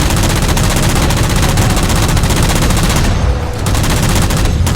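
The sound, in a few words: gunfire shooting down jammers in video game Halo 4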